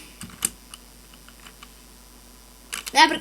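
Code being typed on a computer keyboard while building a Minecraft 1.7.10 mod: scattered light key clicks, then a quick burst of several faster keystrokes near the end, close and fairly quiet.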